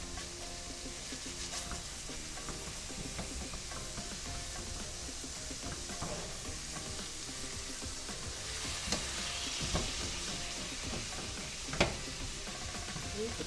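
Pozole rojo ingredients sizzle and crackle in a pan, a steady frying hiss with occasional scraping and clicks from small tongs.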